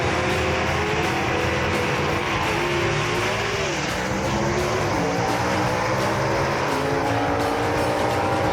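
A 1962 Ford Falcon gasser racing down the strip at Kil-Kare Dragway, a loud continuous engine roar heard from a distance with the pitch climbing through shifts over steady crowd and track ambience.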